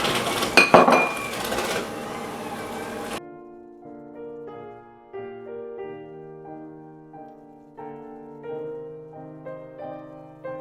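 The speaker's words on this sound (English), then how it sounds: "just add them very slowly and mix them in a little at a time" Eggs are whisked into chocolate brownie batter in a bowl, giving busy clinking and scraping for about three seconds before it stops abruptly and soft background music takes over.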